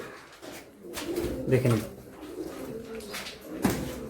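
Pigeons cooing in a breeding loft of Giribaz and Andhra pigeons, soft repeated coos nearby under someone speaking.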